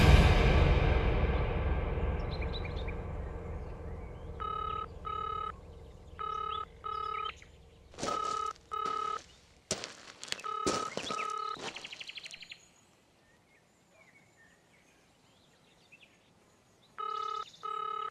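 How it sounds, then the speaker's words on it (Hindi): A phone call goes unanswered: a rapid string of dialing tones, then repeated ringback bursts in a steady on-off pattern over a faint background, fading into near silence before one last ring. "ये फोन क्यों नहीं उठा रही?"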